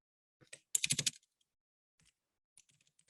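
Short bursts of typing on a computer keyboard, a quick flurry of clicks followed by a few scattered keystrokes, close and quiet with no talking.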